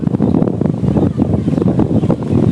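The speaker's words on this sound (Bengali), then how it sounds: "আপনারা হয়তো বাতাসের শব্দটা শুনে বুঝতেই পারতেছেন কেমন বাতাস উপরে" Strong wind blowing outdoors, a loud continuous rushing and buffeting roar across the open air with no voices.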